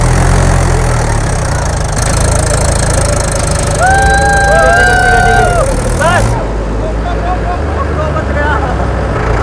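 A tractor engine runs steadily and loudly in a farm field, with a low rumbling drone and some knocking, while a few higher tonal squeals rise and fall midway through.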